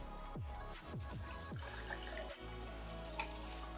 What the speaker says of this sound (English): I always pour my drinks into the cup to make things easier and clearer